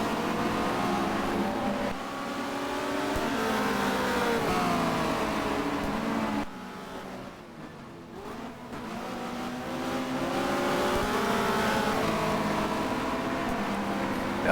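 A Ferrari touring race car howls around the circuit at Barcelona in a 1990 WTCC race, with the engine note climbing and falling through gear changes. It dips briefly at mid-clip before pulling strongly again.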